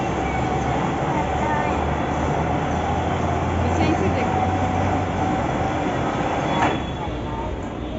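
A large train at the Chhatrapati Shivaji Maharaj Terminus heritage railway museum in Mumbai runs past in a steady, continuous mechanical rumble with a faint tonal whine, close and even throughout, while people talk nearby.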